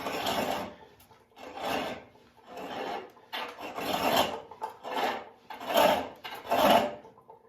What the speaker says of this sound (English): One thing I like about this pedal lathe is that you can just turn it real slow.